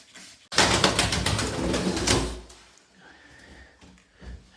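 A pet parrot gets a shower as a burst of spraying water hisses loudly for about two seconds, then cuts off, leaving faint chirps and small movements nearby.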